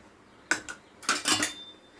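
A spoon clinks and scrapes against a pan as semolina is stirred into hot sweetened milk, a few short metallic strokes close by over a quiet background.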